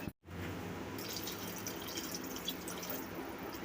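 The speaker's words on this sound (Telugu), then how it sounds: "ఇప్పుడు ఇందులో కొంచెం వాటర్ యాడ్ చేద్దాం మన చిక్కదనం కోసం." Water poured into a pot of toor dal with drumstick leaves, a continuous splashing, bubbling pour close by that starts after a brief gap and runs steadily to the end, with no talking.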